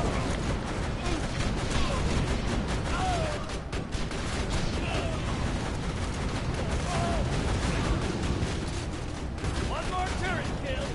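Turret gunfire in Borderlands 2 runs as a dense, unbroken roar of shots and explosions throughout, loud and close, with no clear pauses.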